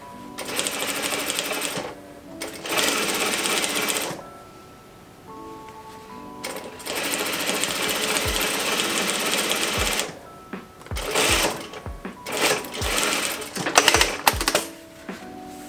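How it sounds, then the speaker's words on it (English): A sewing machine stitching corset panels on its longest stitch length, loud close mechanical chatter in several bursts of a few seconds each, broken by pauses, clicks and handling knocks. "I'm sewing it all on my longest stitch length"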